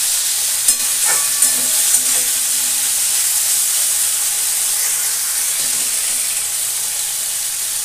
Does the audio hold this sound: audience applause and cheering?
no